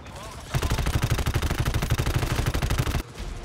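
Rapid, loud automatic gunfire in the GTFO shooter game rips through about two and a half seconds of continuous bursts, then cuts off and leaves quieter background noise.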